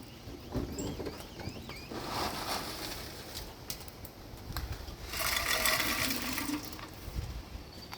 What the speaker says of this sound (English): I'm going to add just a little more ice to it.